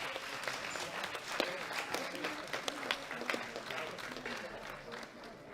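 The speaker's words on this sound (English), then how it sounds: "Give them one more big round of applause." A crowd at a world classic powerlifting championship claps steadily for junior athletes, with scattered shouts and cheers mixed into the continuous applause.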